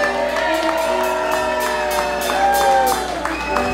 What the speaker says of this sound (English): big round of applause, give it up for Mia